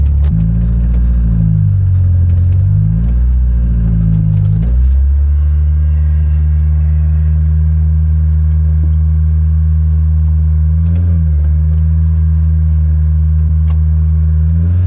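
A barn-find Ford Escort Mk2 engine revs loudly while the classic car is driven across a field, with rising and falling pitch in the first five seconds, then a steady close, loud engine drone.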